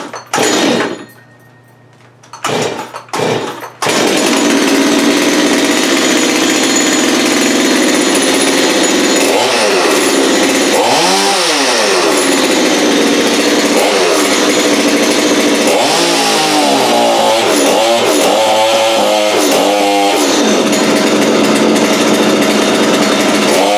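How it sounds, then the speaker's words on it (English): A loud, rough motor of a Holzfforma G255 chainsaw driving a drill attachment roars steadily for a long stretch, the pitch surging up and down as it bores, after a few brief knocks at the start. "I might as well drill a hole with it inside"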